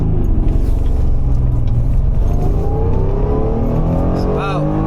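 A mid-engine 1991 Honda NSX accelerates hard in second gear, its engine note rising steadily from a low rumble into a loud, rising whine heard from close inside the car, with a voice speaking briefly near the end.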